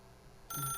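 A telephone bell in The Stanley Parable video game starts ringing abruptly about halfway through, loud and close after a quiet room tone.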